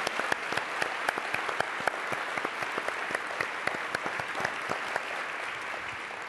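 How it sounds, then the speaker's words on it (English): Sustained applause from an event audience welcoming cancer caregivers at a Relay For Life gathering, dense steady clapping with sharper individual claps standing out throughout, fairly close and even in loudness. "So let's hear a round of applause."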